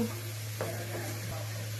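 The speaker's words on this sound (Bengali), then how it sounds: "রসুন ব্লেন্ডার করে এখন কষিয়ে নিব" Blended garlic sautés in a pan with a steady sizzle and frying crackle, a couple of stirring scrapes and a faint low electrical hum beneath.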